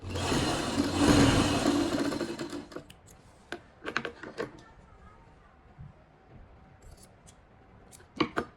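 Scissors snipping away a spare strip of fabric while sewing a back neckline facing, starting with a louder rustling burst, then a string of sharp close cuts spread out and ending in a pair of crisp snips.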